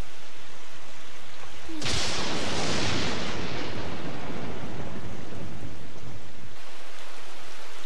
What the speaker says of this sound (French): C'est sûrement à cause de l'orage et des éclairs.